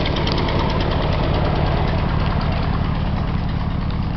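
A lawn tractor engine runs steadily at idle, a close, loud and even mechanical drone with a slight knocking pulse that stays constant throughout, with no voices.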